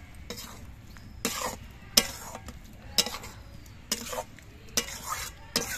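Flat bean curry with onion, garlic and chopped coriander leaves is stirred in a pan, a spoon scraping in about seven evenly spaced strokes over a soft, steady sizzle, close by with no talking.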